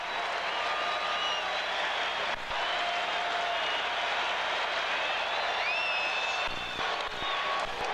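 A baseball stadium crowd at a New York Yankees game with Bernie Williams batting on a full count, a steady distant wash of cheering and applause with a faint broadcast voice over it.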